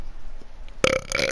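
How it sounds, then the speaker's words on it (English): A person forces out a single loud burp at close range, a harsh, raspy belch that starts abruptly after a brief quiet moment. "Gavin, force burp or regular burp?"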